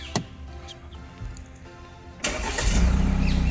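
A Tata Harrier engine cranks and catches after a quiet interior pause with faint clicks, then settles into a loud steady idle rumble close by.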